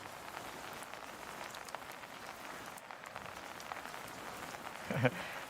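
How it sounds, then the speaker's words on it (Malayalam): Steady heavy monsoon rain in Kottayam, Kerala patters on surfaces in a dense, constant wash, with a brief louder knock near the end. "രണ്ട് ദിവസമായിട്ട് ശക്തമായിട്ടുള്ള മഴ പെയ്യുന്നുണ്ട്"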